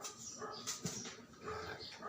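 Several dogs barking and yipping in a Philippine home setting, moderately loud, with a sharp bark burst near the middle amid background voices and household noise.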